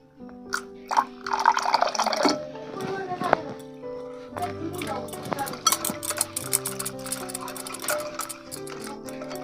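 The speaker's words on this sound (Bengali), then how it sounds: "আমাদের ব্যাটারটা একটু মোটা হয়ে গেছে, সামান্য একটু জল দেব।" Water poured into thick breakfast batter and stirred in a bowl, with close wet stirring and scraping sounds and a few clinks, running under background music.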